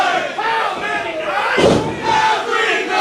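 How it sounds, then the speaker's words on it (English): A wrestling crowd of ESW fans chants loudly and steadily at a live pro wrestling match, the roar swelling with a burst of impact-like noise midway. "listen to the chant here"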